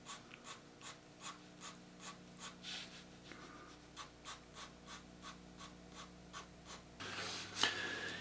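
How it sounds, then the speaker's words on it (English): A hard pencil scratches across drawing paper in quick, rhythmic strokes, roughly two per second and close up, shading a temple area of a portrait, followed by a brief rougher rub near the end. "I'll take my harder pencil and just clean this temple up here."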